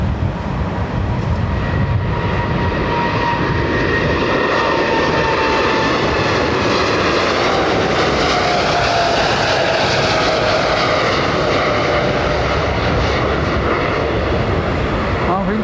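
A jet airliner taxiing at London Heathrow Airport gives off a loud, continuous engine roar with a slowly shifting whine, close and steady throughout, with faint voices beneath.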